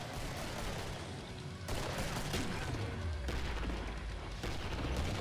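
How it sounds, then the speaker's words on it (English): Sustained gunfire and a heavy grenade blast in the co-op shooter Killing Floor form a dense, continuous barrage of shots and booms, steady and loud throughout. "Perfect grenade throw."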